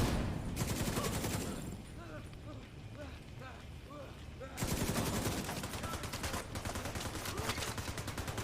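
RPK machine gun fire in The Division 2 shooter game comes in rapid bursts of repeated shots at a moderate distance, with a quieter stretch in between and speech over parts of it.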